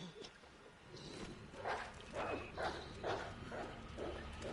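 Dogs in Resident Evil 2 (2019) bark again and again in a series of sharp, loud yelps, close by, over game noise and a faint rumble.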